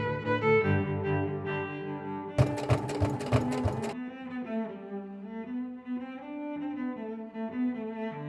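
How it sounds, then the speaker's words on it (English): A sewing machine stay-stitches fabric pieces for a plush doll in one short burst of rapid mechanical stitching, close, with soft background music before and after. "Milo, I'm going to stay stitch and notch"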